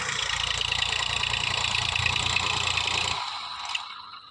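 A tractor engine runs close by with a steady low idling rumble and clatter for about three seconds, then cuts off, leaving only faint background noise.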